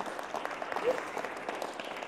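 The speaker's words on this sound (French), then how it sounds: "que l'on peut applaudir, je pense, pour commencer" An audience at a French talk on work, workers' control and ecology breaks into applause, a steady wash of clapping from a seated crowd, moderately near, with a voice speaking over it.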